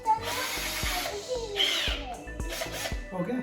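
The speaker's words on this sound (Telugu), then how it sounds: "సో దీనికి తగ్గట్టుగా నేను ఆ సైజ్ తగ్గట్టుగా ఒక డ్రిల్ తీసుకున్నాను" A power drill works on a wooden barn door in short, faint whirring bursts between sharp taps and handling clatter, with a person talking nearby.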